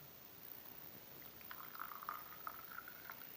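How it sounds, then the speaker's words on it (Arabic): Hot water pours into a glass with a soft, gurgling trickle that rises in pitch as the glass fills, faint against steady background hiss. "ماء ساخن"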